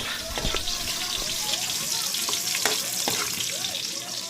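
Tomatoes sautéing in hot cooking oil, a steady loud sizzle and crackle of frying with faint stirring, while people chatter and exclaim over it.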